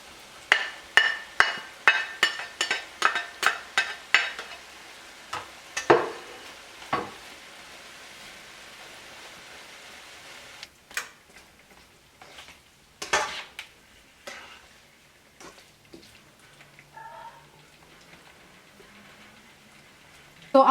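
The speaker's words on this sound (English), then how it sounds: "I'm going to incorporate the vegetables with the shrimp so they can just finish cooking together." Shrimp and vegetables for fajitas stirred together in a hot pan: a quick run of sharp utensil clanks against the pan, then sparser scrapes and knocks over a low sizzle.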